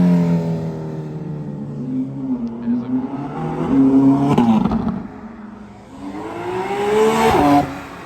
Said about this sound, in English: Now we got the Merc coming out. Behind that is the Ferrari and then the GT3.